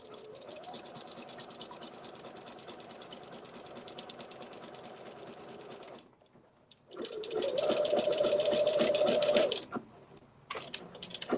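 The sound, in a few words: sewing machine stitching a quilt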